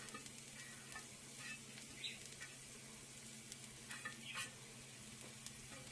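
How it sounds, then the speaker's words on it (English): Garlic and shallots fry in olive oil in a pan with a steady, even sizzle and a few faint stirring clicks, close and fairly quiet, with no talk. "in the pan that's not going in the oven, we're adding the garlic and the shallots with some olive oil"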